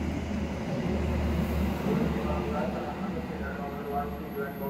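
A Bima passenger train of Indonesian railways runs empty toward the Cipinang depot, a steady loud low rumble and rolling rail noise passing close by, continuous throughout.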